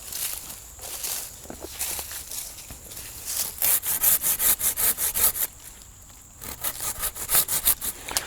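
A Silky Zubat hand saw cutting into a standing poplar tree outdoors, steady rhythmic rasping strokes that speed into quick, even pulls, with a short pause before the sawing resumes.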